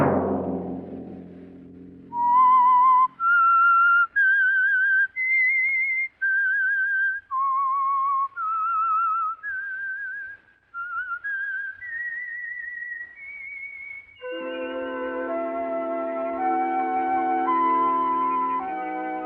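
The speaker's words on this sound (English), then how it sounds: "Let that whistle be your signal for the Signal Oil program, The Whistler" A lone whistler carries a melodic tune as the signal for The Whistler radio mystery program, clear sustained notes in a phrased melody before an orchestral chord swells in underneath.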